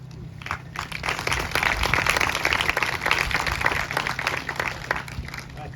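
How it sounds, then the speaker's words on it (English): Applause from the audience at a school ceremony, a broad, steady wash of clapping that holds at moderate loudness for several seconds with no one speaking. "You don't get a lot of applause lately, so it's good"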